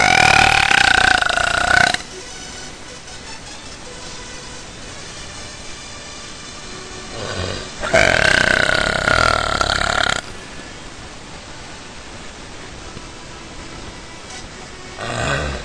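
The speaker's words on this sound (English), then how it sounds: "I'm gonna start belching now." A woman belches loudly and deliberately at home, two long, forceful burps a few seconds apart, close and dominant, with a shorter one starting at the very end.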